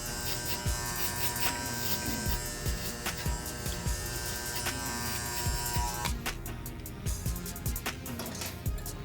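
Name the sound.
hair clippers with number 2 guard blending a fade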